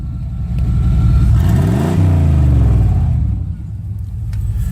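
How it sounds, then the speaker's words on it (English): A loud, raw truck engine with its exhaust fallen off revs up and rumbles back down, unmuffled and close, its deep roar swelling then settling to an idle. "my exhaust fell off. So here's what my truck sounds like now."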